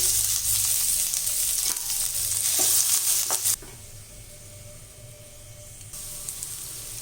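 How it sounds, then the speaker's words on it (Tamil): Chopped onion and curry leaves fry in hot oil in a pan for a carrot and beans kootu, with loud continuous sizzling and stirring scrapes that suddenly drop to a quieter sizzle, then rise again near the end. "இதில் ஒரு மீடியம் சைஸு வெங்காயம் அரிஞ்சு வச்சுருக்கேன் அதையும் இதில் போட்டுடலாம்"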